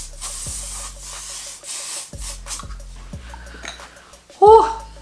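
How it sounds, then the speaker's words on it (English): An aerosol can of hairspray hisses in several short bursts during a makeup session, with someone talking over and between the sprays. "that hairspray is literally going into my lungs"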